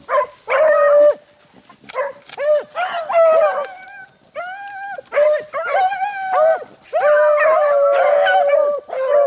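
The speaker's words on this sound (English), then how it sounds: "the dogs just ran the rabbit right out behind me right here" A pack of beagles bays and howls in loud, overlapping bursts while chasing a rabbit through thick cover. Voices cut in and out continuously across the stretch, with only brief pauses.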